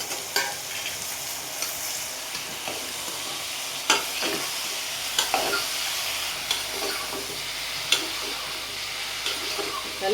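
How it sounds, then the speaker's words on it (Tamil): Chopped bottle gourd frying in oil in a home kitchen, a steady close sizzle broken by occasional stirring scrapes and small pops. "இதை போட்டு ஃப்ரை பண்ணிக்கலாம்"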